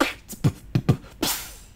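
Beatbox imitation of a sparkling water bottle being opened, made with the mouth: a few short popping clicks followed by a breathy fizzing hiss that trails off, close and alone.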